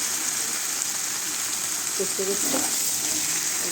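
Mutton fries for a curry in a pan, giving a loud, unbroken sizzling hiss that fills the whole moment, with faint low murmurs underneath.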